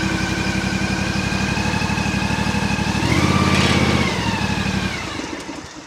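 A zero-turn lawn mower engine running steadily, a loud continuous droning hum that swells briefly midway as the engine note shifts, then eases off near the end, with no talk.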